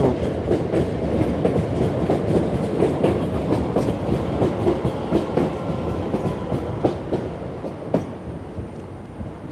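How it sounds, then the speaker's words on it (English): Two trains passing each other in opposite directions at once in Ballsbridge, Dublin, a loud steady rumble with rhythmic clickety-clack of wheels on rail joints throughout, nearby and continuous. "2 trains going either way at the same time."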